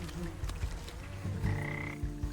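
A frog croaks in the video game Wytchwood, several short croaks over game ambience with a sustained tone in the middle, moderately loud and close.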